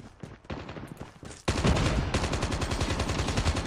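Rapid bursts of automatic gunfire from the video game Call of Duty Mobile, sparse at first, then a loud, dense, sustained stream of shots from about halfway on, with no talk.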